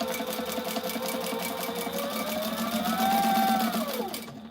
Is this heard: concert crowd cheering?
no